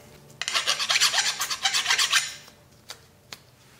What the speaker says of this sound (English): the rust isn't coming away with just a brush, so it's good to have a metal file on hand to remove that